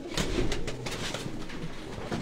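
Pigeons of the Sialkot Batera breed cooing in a loft, soft repeated throaty coos overlapping close by with no voices.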